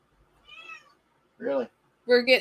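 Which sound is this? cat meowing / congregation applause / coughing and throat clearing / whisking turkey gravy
cat meowing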